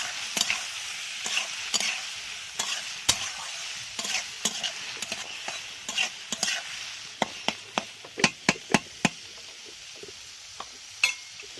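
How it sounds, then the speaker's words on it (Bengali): Gheri and mixed vegetables fry in a pan on the stove under a constant sizzle, with repeated sharp taps and scrapes of a spatula stirring them, close up and with no talk. "এইবার ভালো করে নাড়াচাড়া করবো"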